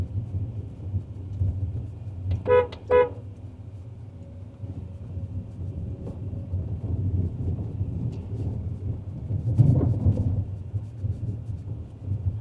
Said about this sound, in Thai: ก็จะต้องกดแตรส่งสัญญาณนิดนึง